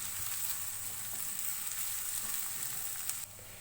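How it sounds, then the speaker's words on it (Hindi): Chopped onion fries and sizzles steadily in a pan while a spoon stirs it, a dense, even crackle with occasional scraping taps, close and fairly loud throughout, softened dal-style cooking with no voices. "चमचे चलाते रहेंगे।"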